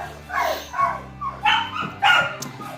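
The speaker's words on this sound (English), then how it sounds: "It's going to take them little puppies behind us to understand that they don't have to bark." Puppies barking behind a dog-training session, with a quick run of yips, barks and whimpers, close and fairly loud, heard alone.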